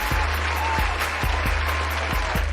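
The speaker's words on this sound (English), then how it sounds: "I'd like to give you all some applause." Steady, dense applause from a crowd, continuous clapping over a rhythmic low thumping beat.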